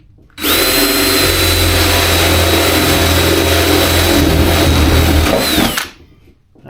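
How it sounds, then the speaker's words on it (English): A battery-powered drill boring a starter hole in a patio ceiling whines loudly and steadily at full speed for about five seconds, very close, then spins down and stops. "I'm just gonna start me a little hole right there"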